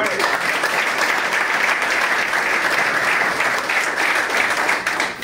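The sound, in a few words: audience applause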